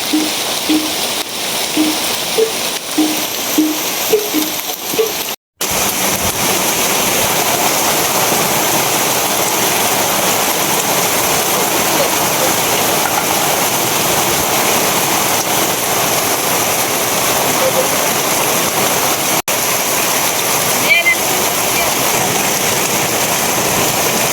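Heavy morning rain pours down steadily, a dense, loud, continuous hiss that fills the whole stretch, with a brief dropout near the start.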